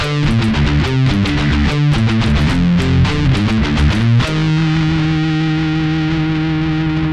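A heavily distorted electric guitar plays a choppy, rhythmic riff from a song, with repeated chugging notes, then lets one thick chord ring out sustained to the end, loud and alone.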